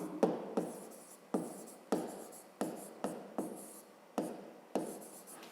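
A pen scratches across paper in a quiet room, eight or nine short strokes spaced about half a second to a second apart, each starting sharply and then fading, close and soft.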